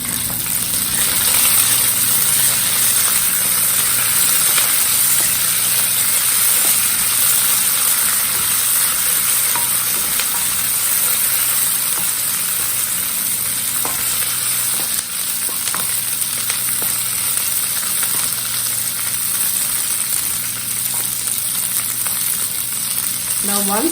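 Mint leaves and other ingredients for a hotel-style coconut chutney sauté in a hot pan, giving off a constant loud sizzle and crackle with occasional stirring scrapes over a steady background hum.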